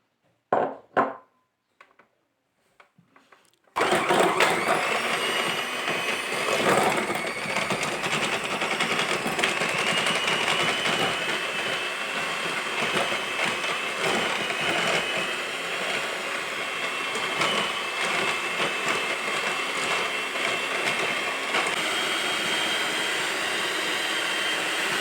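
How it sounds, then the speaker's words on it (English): An electric mixer beats butter and castor sugar, starting abruptly after a few quiet knocks and then running as a loud, steady whir with small shifts in pitch, close up and with no talking. "first what we need to do is to mix the butter. I put it here, and also the castor sugar. Just mix it here."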